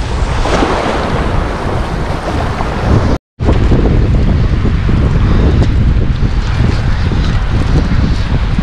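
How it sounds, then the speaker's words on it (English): Strong wind buffets the microphone on open water during a fishing outing from a boat on an outgoing tide, with loud continuous roaring gusts and waves, briefly cutting out once midway. "We got quite a bit of wind."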